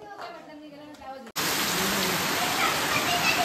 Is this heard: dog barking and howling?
no